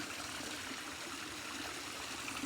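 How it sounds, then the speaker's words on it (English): Water from a small garden pond waterfall, partly clogged with reduced flow, runs in a steady continuous trickle and splash close by, with no voices. "You can tell the waterfall's still clogged up a little bit as we're not getting that full water flow"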